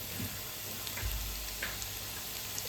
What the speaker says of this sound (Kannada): ನಂತರ ಇಲ್ಲಿ ಎಣ್ಣೆಗೆ ನಾನಿಲ್ಲಿ ಚಾಪ್ ಮಾಡ್ಕೊಂಡಿರುವಂತಹ ಬೆಳ್ಳುಳ್ಳಿನ ಹಾಕೋತಾ ಇದ್ದೀನಿ